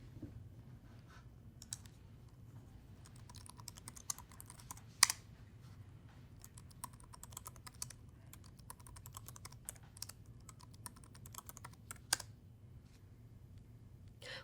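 Typing the passwd command at a Linux computer keyboard: soft, irregular key clicks and taps in short bursts, close but quiet, with a few sharper keystrokes and no one speaking.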